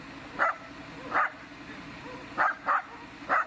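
A Jack Russell Terrier, an explosives-detection dog in Ukraine, barks five times in short sharp yips spread irregularly over a few seconds, moderately close over a low background murmur.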